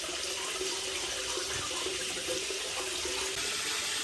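Steady, close rush of tap water pouring to fill aquarium tanks in a fish room, continuous and fairly loud for the whole stretch with no voices.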